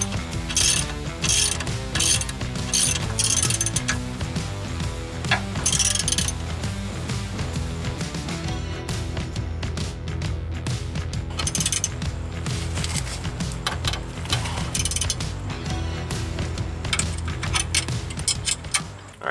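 A hand ratchet wrench tightens skid plate bolts on a Toyota Tacoma, loud close bursts of rapid clicking in repeated strokes, with brief pauses and faint metallic clinks between them.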